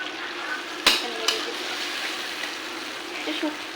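Boiled taro greens tipped into a pan of fried shrimp and stirred, giving a low steady sizzle with two sharp clatters of the spoon early on, fairly faint with no talk.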